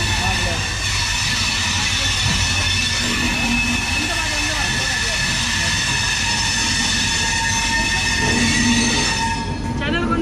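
Passenger train running on rails in Haryana, a constant loud rumble of wheels and carriage noise with rhythmic clatter and faint squeals, heard from on board.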